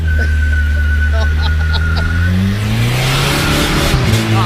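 A mini truck drives on a bumpy road with a steady engine drone and rising revs inside the cab, loud and continuous throughout, with rattles and jolts from the rough surface.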